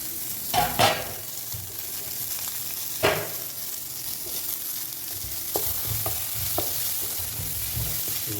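Tomatoes sizzle steadily in a pan while a utensil stirs and scrapes, with a few sharp knocks against the metal.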